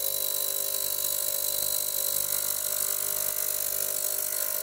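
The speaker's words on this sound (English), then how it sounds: "we'll place the section and the top piece of the barrel into the ultrasonic and see if we can loosen it up a bit" Ultrasonic cleaner running with the section and top barrel piece of a vintage Onoto De La Rue No. 50 fountain pen inside, giving a steady, even high-pitched whine with a constant low hum, alone and unbroken throughout.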